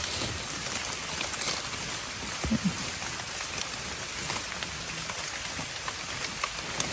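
Rain falls in the early morning hours in a rural Thai forest area, a steady dense hiss of drops on surfaces with occasional louder splats, continuous and moderately close, with no talking.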